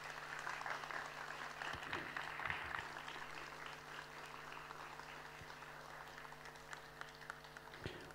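Audience applause greets Prof. Dr. Nurullah Genç at a poetry evening in Eyüpsultan. It is a steady, fairly quiet wash of clapping that holds evenly throughout, with faint hum underneath and no voices standing out.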